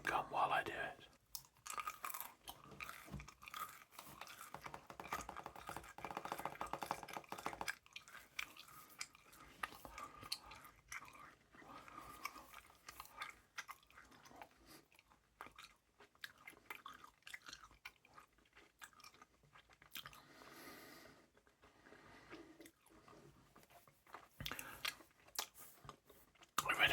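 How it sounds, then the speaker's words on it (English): Gum is chewed close to the microphone in a quiet room, with soft, irregular wet clicks and smacks continuing throughout at low volume. "And I'm going to chew some gum while I do it."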